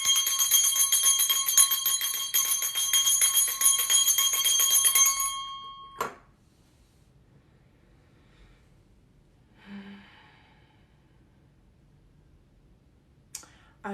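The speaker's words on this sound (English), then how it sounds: "Ring my bell" A hand bell rings brightly and continuously for several seconds, then cuts off with a clack, followed by near silence, a faint shuffle and a couple of small clicks.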